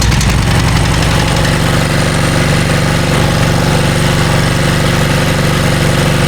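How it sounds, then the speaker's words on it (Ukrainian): A home generator engine runs close and loud, a steady, rough, rapid chugging drone with heavy vibration that continues throughout. "в принципі, запускати наш генератор. Вмикаємо запалювання, закриваємо повітряну заслонку і смикаємо."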